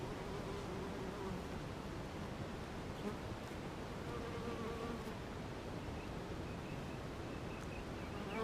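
A dense, steady drone of honey bees fills the air around hive frames in honey supers during a beekeeping inspection, loud and unbroken with no talking.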